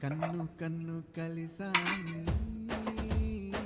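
A metal utensil clinks and scrapes against a pan while fried potato snacks are scooped out, with several sharp, close taps in quick succession.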